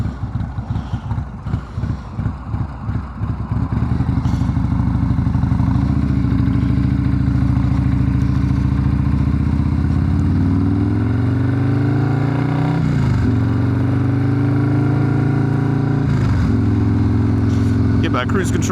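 A Perewitz custom Harley-Davidson Softail Slim motorcycle rumbles loud and close while riding, its engine pulsing and shifting pitch as it accelerates, with a rider talking over it.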